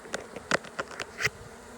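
Honey bees in a broodless colony, moving rapidly and nervously, give a faint, close buzz with several short, sharper wingbeat bursts.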